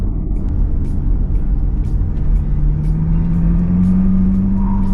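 MG Cyberster sports car driving, a steady engine hum with a slowly rising tone as it accelerates, heard from inside the cabin, close and loud, with no one speaking.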